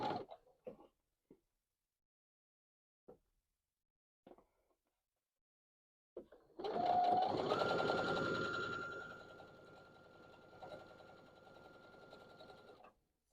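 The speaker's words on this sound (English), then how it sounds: "So now I'm going to sew them together, just two at a time in rows." Sewing machine stitching quilt pieces together, starting after a few soft handling taps and running in a steady whirring drone for several seconds before stopping, close and moderately quiet.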